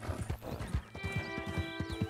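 A horse in Red Dead Redemption 2 trots with quick, regular clip-clopping hooves up close, and a loud whinny breaks over the steps in the second half.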